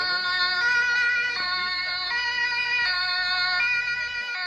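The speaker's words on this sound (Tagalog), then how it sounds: "Pinatunog ng mga pulis ang mga sirens pero medyo parang musika imbis na siren ang tunog nila." Police sirens on a street in a small German town, wailing in a melodic, music-like pattern of stepped tones that shift every second or so, loud and continuous with no talk over them.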